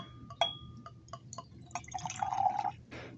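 Zinc sulfate solution poured into a lab container, about 100 milliliters, with glassy clinks and drips leading into a steadier trickle of filling liquid, close and fairly quiet, no talking.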